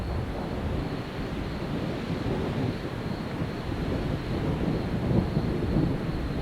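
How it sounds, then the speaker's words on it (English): Distant thunder from an approaching storm rolls as a low, continuous rumble across an off-trail forest, steady and broad with wind-like noise throughout and no voices. "I've been wondering if I've been hearing some thunder for a while now"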